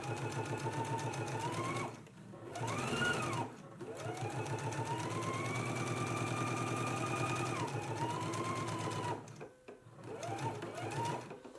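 Sewing machine understitching close to the seam of a dress facing, running steadily and close for about eleven seconds with brief slowdowns, its pitch rising and falling, with a faint voice underneath.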